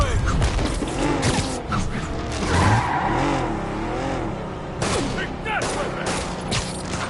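Rapid gunfire in the game Marvel's Spider-Man during a car chase, loud bursts of shots mixed with roaring, skidding engines and brief shouted voices.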